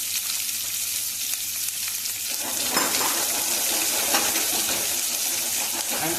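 Onion goes into hot oil with shahi jeera in a pan, and the close, steady sizzle swells and thickens into busier crackling partway through.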